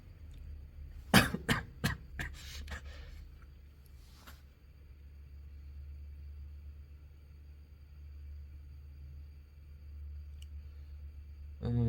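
A burst of several quick coughs near the start, then a low steady rumble of background noise with a faint click later on.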